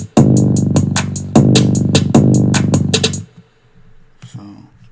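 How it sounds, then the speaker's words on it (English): A booming 808 bass drum pattern programmed in FL Studio 20, several long deep hits with punchy attacks and decaying tails, loud and alone, ending in near silence. "So I added a quick little 808 pattern in."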